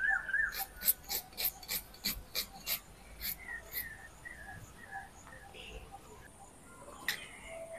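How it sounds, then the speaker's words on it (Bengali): A knife cuts potatoes into thick pieces for mutton biryani, making a quick series of about a dozen sharp, close chopping strokes on a board, then slower scattered cuts, with faint background noise. "এইভাবে মোটা করে কেটে নেব।"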